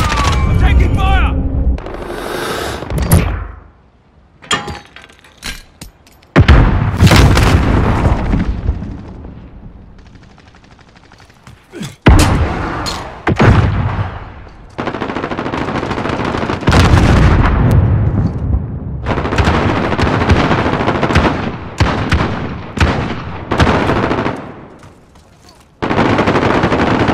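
Gunfire in the video game Call of Duty: Modern Warfare: loud, sustained automatic bursts and heavy blasts that stop and start, with short pauses between volleys and in-game radio voices speaking over the shooting.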